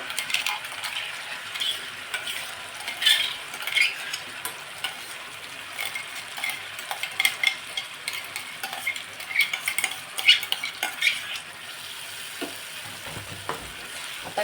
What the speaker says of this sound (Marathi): चार ते पाच मिनटं मध्यम आचेवर आपण तेलामध्ये चांगलं असं परतून घ्यायचं